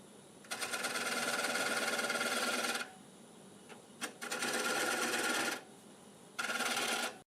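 A 5/8 bowl gouge cuts a segmented wooden bowl spinning on a lathe, making three sustained, buzzing, chattering passes of steady loudness, separated by short pauses with faint clicks.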